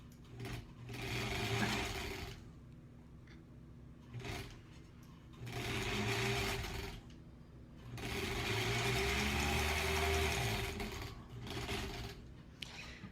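A sewing machine stitching granny square quilt pieces in three bursts of fast mechanical whirring and clattering, separated by quieter pauses, close and clear.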